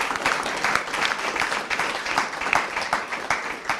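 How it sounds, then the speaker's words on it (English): Audience applause at an academic event on diplomatic summits and African foreign policy, a full sustained patter of many hands clapping, loud and even from start to finish with no talking. "please also a big applause for the teams of all these three institutions"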